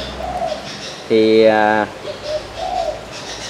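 A captive spotted dove gives one loud, close cooing phrase of several rolling notes, standing out clearly from a quieter background with faint talk before and after.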